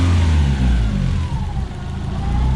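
Toyota Corolla TE72 with a swapped 3SGE engine running up close, a loud, throaty idle with a faint rising whine, steady and uninterrupted, no talking.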